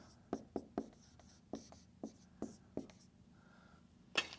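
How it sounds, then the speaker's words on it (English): Pen strokes scratch across paper in a quick series of short, sharp taps and scrawls, fairly close, with one louder stroke near the end and no talking. "again, just write it down."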